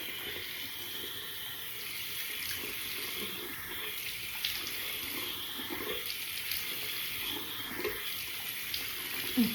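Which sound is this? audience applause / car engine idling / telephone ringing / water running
water running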